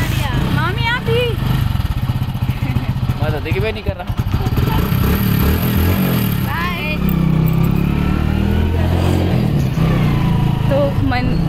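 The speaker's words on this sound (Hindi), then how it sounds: "हम लोग एक बाइक पे 4 लोग जा रहे हैं।" Motorcycle carrying four riders on a rural Indian road, the engine droning loudly and steadily throughout with shifting revs, while people chatter and laugh over it.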